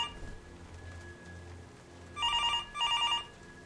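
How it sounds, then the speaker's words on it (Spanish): Telephone ringing inside the horror video game Left to Rot, heard as two bursts of an old-fashioned electronic bell ring, fairly loud over a low rumbling game ambience with no speech. "¿Quién me llama a esta hora? ¿Dónde está el teléfono?"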